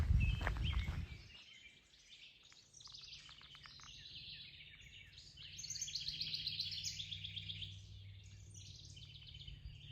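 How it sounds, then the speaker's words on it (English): Many small birds chirp and tweet in steady overlapping calls along the Wabash Trace Nature Trail near Council Bluffs, with a low continuous hum underneath; a brief louder rustle opens the recording. "It's just so noisy right here with all the birds."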